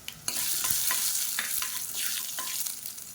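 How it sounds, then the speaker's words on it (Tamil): Mustard seeds, urad dal and cumin splutter in hot oil with rapid crackling pops over a steady sizzle, close and continuous, while a spoon stirs. "கடுகு வெடிக்க ஆரம்பிக்குது."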